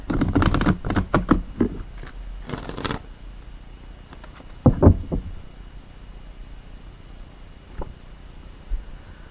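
Cards being shuffled in a few quick riffling bursts, close up, followed by a couple of soft taps and quieter shuffles; no one speaks.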